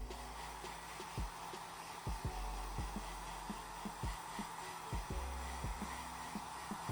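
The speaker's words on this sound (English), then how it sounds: "To get an even better fit, hit it with a hairdryer." A hair dryer blows steadily close by while heating the glue of a phone screen protector, a continuous airy whir with faint clicks and handling knocks, and no speech.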